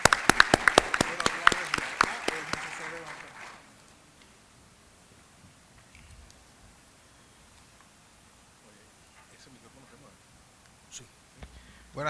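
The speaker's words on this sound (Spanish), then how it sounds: "Un fuerte aplauso para nuestro expositor." Audience applause for a speaker at a criminal procedure law panel, sharp close claps over a burst of clapping that dies away after about three seconds, leaving quiet room noise and a few faint knocks.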